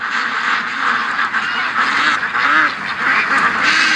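Lakeside ducks give a dense, continuous run of loud, close quacks, with a few lower honk-like calls mixed in and brief dips between bursts.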